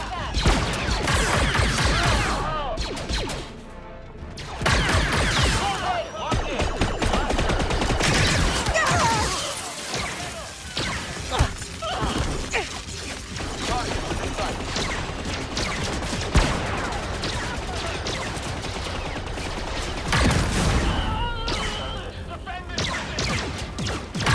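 Heavy gunfire in the video game Star Wars Outlaws: dense, rapid volleys of blaster-like shots and crashes go on throughout, loud and busy, with brief lulls and voices underneath.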